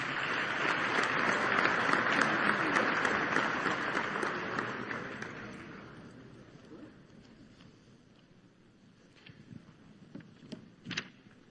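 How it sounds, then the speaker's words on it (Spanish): Loud, dense applause from a convention audience of insurers in Mexico fills the first half, then fades away, leaving sparse scattered claps and light noise. "una vez más un fuerte aplauso de los aseguradores de México"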